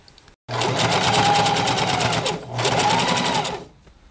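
A sewing machine top-stitches the edge of a durag in two loud, close bursts of rapid, even whirring, separated by a short pause.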